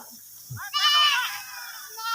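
A goat bleats loudly and close by on a Thai farm, one wavering drawn-out cry following a brief thump, with a fainter bleat starting at the end.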